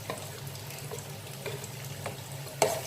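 Crushed ginger and garlic sizzle in a hot pan while preparing chicken machboos, a steady soft frying hiss with a few light clinks and stirring knocks, the last one sharper.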